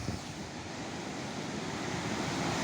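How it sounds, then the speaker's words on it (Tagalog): Big ocean waves churn and crash steadily during a typhoon, a dense continuous roar of surf mixed with wind buffeting the microphone, loud and close with no voices. "yung malaki ang alon"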